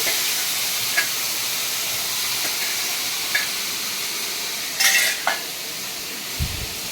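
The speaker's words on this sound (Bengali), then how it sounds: "এই যে বেগুন ডালটা বসিয়ে দিলাম।" Eggplant dal (begun dal) simmering in a pot on a home stove, a steady soft hiss of sizzling and steam with a few faint clinks of stirring, no voices.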